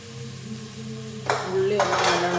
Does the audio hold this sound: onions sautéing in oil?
yes